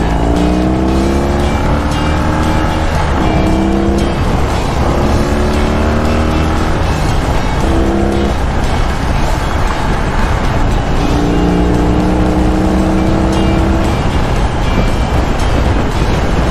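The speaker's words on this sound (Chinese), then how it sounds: "刚刚加速的时候有一个砰隆砰隆砰隆砰隆的声音" A BMW R18 cruiser motorcycle accelerates hard on a highway, its engine note climbing in repeated rising sweeps through the gears, loud and close, with wind buffeting the microphone throughout.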